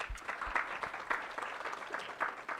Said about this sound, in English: Another round of applause for them.